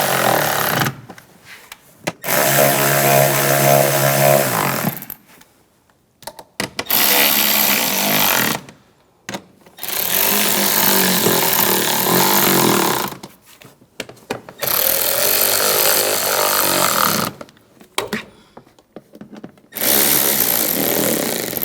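Bursts of a power tool driving down the intake manifold screws on a 2009-2013 BMW 328i xDrive 3.0L inline-six: several loud, close whirring runs of a few seconds each, broken by short pauses.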